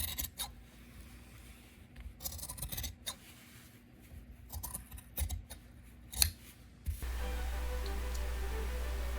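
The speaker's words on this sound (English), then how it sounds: "Just listen to the beautiful sound of my 60-year-old shears cutting through the wool." Sixty-year-old shears cut through wool, a series of crisp close snips and slicing crunches in irregular bursts, quiet and alone, before a steady low hum takes over at the end.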